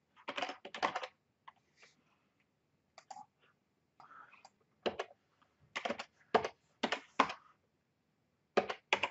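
Login details being typed on a computer keyboard, sounding as clustered bursts of quiet, close key clicks separated by short pauses.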